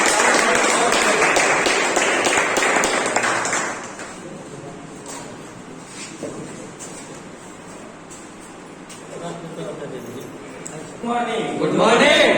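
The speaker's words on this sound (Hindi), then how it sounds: "तो एक जोरदार ताली से बाकी सर के लिए" Audience applause fills a meeting hall during a Vestige marketing-plan presentation, a dense burst of clapping for several seconds that gives way to quieter murmuring and voices.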